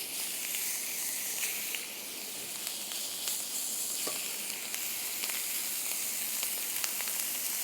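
Beef patties for homemade burgers frying in a pan, with a steady, close sizzle and crackle and scattered sharp pops, alone with no talk.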